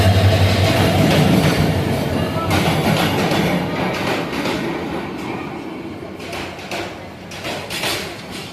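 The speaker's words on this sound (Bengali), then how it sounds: "আমাদের কাঙ্ক্ষিত ট্রেনটি চলে এসেছে, পর্যটক এক্সপ্রেস" The Parjatak Express, an intercity passenger train running from Dhaka to Cox's Bazar, pulls into platform 1 with a loud, continuous rumble and clatter of wheels and carriages that fades slightly toward the end.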